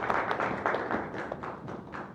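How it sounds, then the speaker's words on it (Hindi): Applause from an audience at a company event, a short burst of dense clapping with rhythmic loud hits, fairly close and steady throughout. "जोरदार तालियां।"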